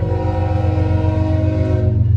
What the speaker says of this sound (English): I done got caught at this damn train